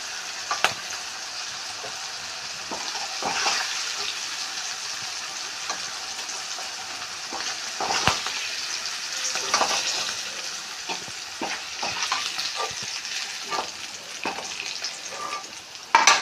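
Okra frying in a pan makes a continuous bright sizzle with irregular stirring scrapes and small pops, close and steady for the whole stretch, no voices.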